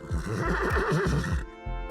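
A horse neighs in a loud, clear whinny sound effect that rises and shakes for over a second and then trails off, with no talk around it.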